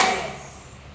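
A single sharp hand clap in a group counting clap game, struck close at the start and decaying quickly into a soft room tail.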